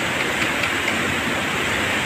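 Rushing floodwater of the swollen Marikina river, a loud, constant roar of turbulent water that fills the whole stretch without any break, heard close up with no voices.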